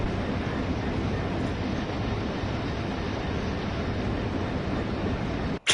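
A train in the Train Sim World 2 video game rolls past near Clapham with a steady, loud rumble and wheel noise that holds for several seconds, then cuts off abruptly at the end.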